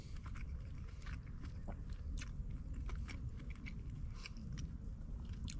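Close, quiet chewing of soft slow-cooked lamb from a takeaway, with faint wet bites and mouth sounds over a steady outdoor background hum at a lake.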